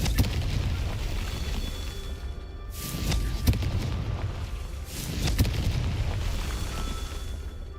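Confringo blasting spells exploding in Hogwarts Legacy, two heavy booms a few seconds apart rising out of a steady rumbling game background, each followed by a short decaying roar.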